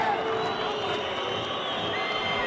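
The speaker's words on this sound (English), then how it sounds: "Booing by the Polish supporters as Stojakov comes back in again." Polish supporters fill a handball arena during a Poland versus Germany European Championship match, their loud massed crowd noise a steady, dense roar throughout.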